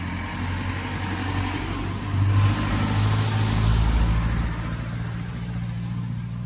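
Jeepney engine rumbling while riding, a steady low drone with a slight swell in the middle as it pulls along, loud and continuous with no talk.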